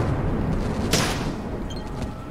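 A hexogen explosive blast in the video game ATOM RPG: one sharp boom about a second in, rising out of a continuous loud low rumble that carries on through the rest of the clip.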